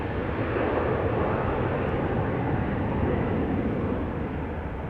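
A 14-year-old Embraer 190 jet departs an airport, its engines giving a steady, loud broadband roar that holds evenly throughout.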